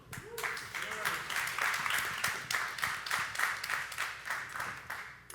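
Applause at an evening sports-performance keynote, steady and fairly dense across the room, with sharper individual claps poking through and a voice briefly audible at the start.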